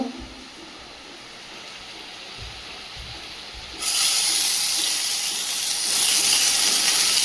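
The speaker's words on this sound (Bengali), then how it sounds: "এই যে মাছে সব মাখিয়ে রেখেছিলাম, এবার ভেজে নেব" Hilsa fish pieces go into a hot pan to fry on a rainy day; a quiet start gives way to a sudden loud, steady sizzling hiss that lasts to the end.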